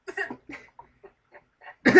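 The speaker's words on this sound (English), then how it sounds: "are you guys sick or something? God, get some cough checked out" A series of short, dry coughs spaced out irregularly, ending in a louder, harsher cough burst.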